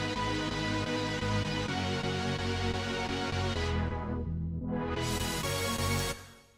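A sustained, dense synthesizer pad chord rings steadily, its bright upper layers briefly dipping away before swelling back, then fading out at the end.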